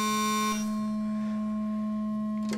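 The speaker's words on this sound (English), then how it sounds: "This is doing a bit depth reduction by reducing the number of bits from 12 all the way down to 1." A Kilpatrick Format modular synth plays a steady buzzy tone through bit depth reduction, cut from 12 bits down to 1, its bright upper edge dropping away after half a second while the core pitch drones on alone.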